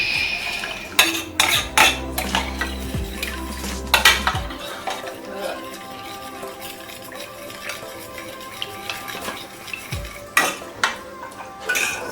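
Chili is stirred into meat broth in a metal pot, with repeated clanks and scrapes of a utensil against the pot in short bursts, separated by quieter stretches and no talking.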